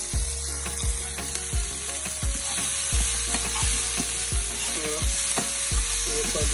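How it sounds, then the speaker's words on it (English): Jamaican salt mackerel rundown cooks in a pot with a steady close sizzle, broken by regular low knocks and scrapes from stirring about every second. "Let that slowly simmer down."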